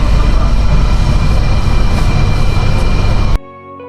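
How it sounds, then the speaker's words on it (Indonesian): A Ranggajati economy-class passenger train pulling out of Purwokerto station toward Cirebon, heard from inside the carriage: a loud, steady rumble of wheels and running gear that cuts off abruptly near the end. "Ranggajati meninggalkan stasiun Purwokerto menuju Cirebon."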